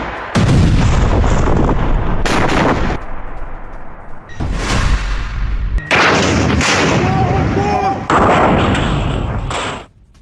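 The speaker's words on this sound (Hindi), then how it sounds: "राफा में इजराइल की बमबारी की ये तस्वीरें एक तरफ आपके सामने हैं" Bombardment and artillery fire in Rafah, captured in war news footage, comes as dense, loud bursts of heavy firing and booms. They run continuously with short gaps, close and harsh, and a faint voice may sit beneath them.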